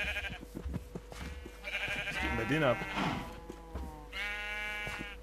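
Sheep bleat in a Minecraft game, with short, wavering calls near the start and a longer one at the end, mixed in with someone talking over them.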